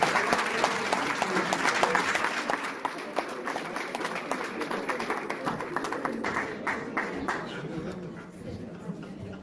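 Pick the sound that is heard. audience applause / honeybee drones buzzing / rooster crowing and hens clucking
audience applause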